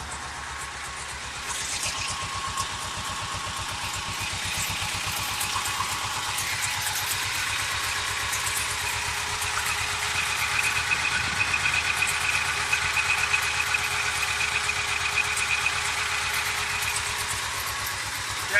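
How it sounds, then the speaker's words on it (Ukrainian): A diesel T-16 tractor engine idles steadily up close, its rapid low thrumming knock holding an even rhythm throughout. "Завів трактора, треба подивитися, чи не ганяє ним"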